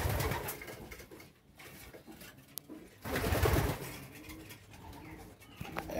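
Pigeons in a loft, breeding hens kept together, give low throaty coos and soft rustling, with fuller bursts of cooing near the start and again past the midpoint, moderately close and with no talk.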